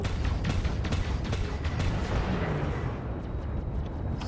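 Rapid bursts of gunfire and blasts from an enemy ship in a space combat game ring out loud and dense, with sharp repeated cracks over a steady rumbling engine drone.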